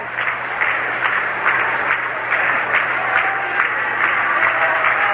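Yankee fans applaud from the ballpark stands at a Yankees at Washington Senators baseball game, a steady, dense patter of many hands clapping at a moderate distance under a low broadcast hum.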